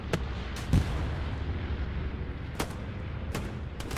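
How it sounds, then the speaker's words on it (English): A bombing run in the World War II shooter Hell Let Loose sets off a string of heavy explosions over a rumbling battlefield, with several sharp blasts and thuds spaced irregularly, one especially close and loud. "I think HRB is also going to be using a bombing run of their own."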